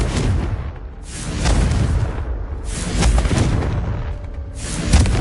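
A Confringo blasting spell exploding in Hogwarts Legacy, several deep booming bursts that rise and fall in loud waves, alone without talk.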